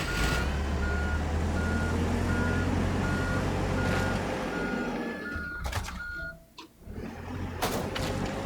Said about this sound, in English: Grab this forklift over here.